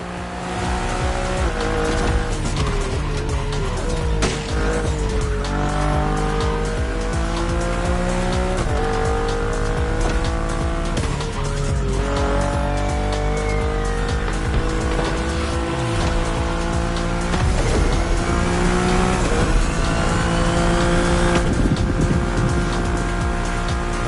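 A BMW tuned with a Liberty Walk wide-body kit races in The Crew Motorfest, its engine revving hard and climbing through repeated gear shifts while tires squeal continuously, loud and unbroken with no speech.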